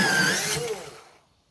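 An electric pencil sharpener grinds ARRTX colored pencils, a loud buzzing whir lasting about a second before winding down and fading into silence.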